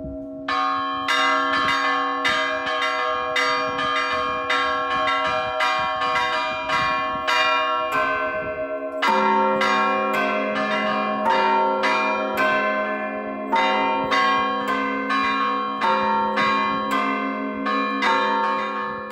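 Church bells ring continuously in a fast, rhythmic pattern of overlapping metallic strikes, loud and clear with no talk.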